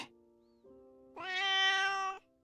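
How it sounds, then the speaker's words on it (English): A cat named Carlo gives a drawn-out meow that swells into a louder, bright wail before fading, heard alone at close range in a quiet room. "Meow."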